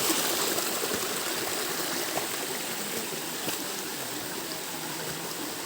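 A small waterfall splashes steadily nearby, a constant rushing, trickling wash of water with no voices.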